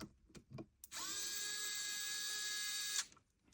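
A power tool runs on a Hapstone knife sharpener to back out a screw, a few soft knocks and then a loud, steady high-pitched whine for about two seconds that stops abruptly.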